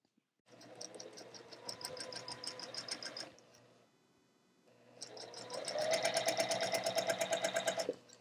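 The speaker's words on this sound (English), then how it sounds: "we're going to sew them on that long edge that we have going corner to corner on both of our units" A sewing machine stitches quilt block units along their long corner-to-corner edge in two bursts of rapid, even needle chatter, close and clear, separated by a brief pause, with no talking.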